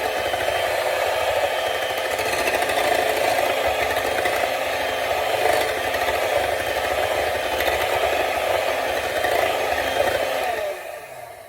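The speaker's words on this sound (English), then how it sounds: "beat this with the mixer and the sugar and the honey and the orange zest and juice" An electric hand mixer whirs steadily as it beats eggs with sugar, honey and orange zest and juice for mostaccioli, a continuous close motor drone with a faint rattle that cuts off near the end.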